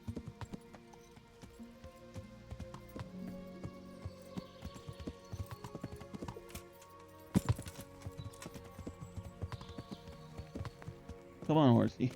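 Horse hooves clip-clop in the Kingdom Come: Deliverance video game, an irregular series of quiet hoofbeats with scattered louder knocks and a brief burst near the end, partly under a voice.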